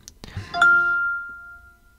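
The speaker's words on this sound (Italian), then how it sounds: "il suono in fase di spegnimento e anche il suono in fase di accensione" An iPhone 14 Pro chiming as it powers on or off: a short soft click followed by a clear bell-like tone that rings and slowly fades over about a second and a half, close and quiet.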